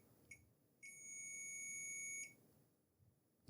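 A multimeter continuity beep sounds while probing a Super Nintendo power supply board: one brief tone, then a steady sustained beep of about one and a half seconds, clear and close, with no talking.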